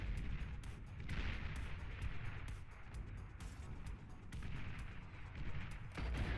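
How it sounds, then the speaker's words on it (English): Sniper bots fire in the real-time strategy game Beyond All Reason, sending out sharp distant cracks and rumbling booms over a continuous background of battle noise, with no voices. "with already 4 sniper bots, who are actually missing all of their shots"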